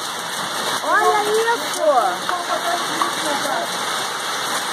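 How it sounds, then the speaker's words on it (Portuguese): Steady heavy patter of hailstones striking an orchard and plants, dense and continuous, with someone speaking briefly over it. "isso tudo é granizo"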